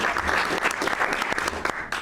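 Applause at a cabinet meeting comes as a burst of steady, close hand clapping from a modest group of people for about two seconds.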